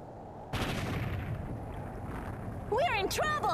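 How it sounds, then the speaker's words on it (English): A sudden video game explosion blast erupts in Mega Man ZX, followed by a sustained rumbling roar, with high warbling electronic squeals near the end. "Explosions!"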